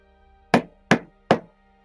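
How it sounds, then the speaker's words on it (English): Three crisp, evenly spaced knocks on a door, close and loud against a silent background. "Petit Perroquet knocked at the door."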